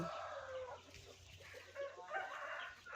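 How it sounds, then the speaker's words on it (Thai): Chickens at a rural chicken farm beside rice fields cluck steadily, with a rooster crowing amid the flock; a continuous, moderately loud farmyard chorus of overlapping calls. "ตรงนี้ก็จะเป็นฟาร์มไก่นะคะ"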